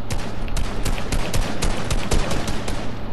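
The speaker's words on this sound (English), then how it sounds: "I miss every single one of them shots" Rapid gunfire in a squad-based shooter video game, a dense burst of repeated shots crackling close and loud for several seconds with no talking.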